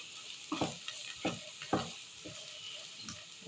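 Zucchini sauté in a pan with tomato sauce and paprika, a low bubbling sizzle broken by several scraping stirs at an uneven rhythm, close by with no voices.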